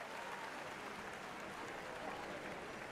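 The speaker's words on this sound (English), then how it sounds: "The entire crowd cheers as you and Samwise share a happy dance of victory." A large crowd at a village harvest festival pumpkin contest cheers and applauds continuously, a dense, steady roar of clapping and voices at even loudness throughout, with no single voice standing out.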